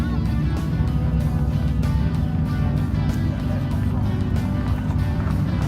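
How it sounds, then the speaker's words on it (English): A mid-engine Ferrari F430 with an 8-cylinder engine runs steadily and loudly at close range, a dense low rumble without pause, at a classic and supercar show at Blenheim Palace. "the next car again, mid-engine Ferrari with an 8-cylinder"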